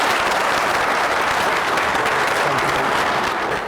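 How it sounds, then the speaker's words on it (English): An audience bursts into dense, loud, sustained applause, welcoming a speaker at an event. "Let's give a great welcome to my great friend, Colonel Gadson."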